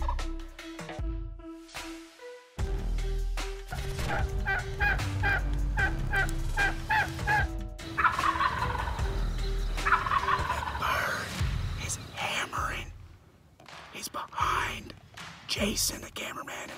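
A wild turkey gobbles at a spring dawn hunt from a paddleboard, a few rapid rolling gobbles, mid-distance and fairly loud, with hushed whispering nearby and some rustling and handling noise.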